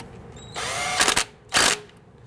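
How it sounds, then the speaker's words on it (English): Power tool tightening a rear brake caliper pin bolt on a 2011-2017 Nissan Quest: a short whine, then two loud rattling impact bursts close by, with a pause between them and no speech. "Line up that pin. And then we'll tighten that down."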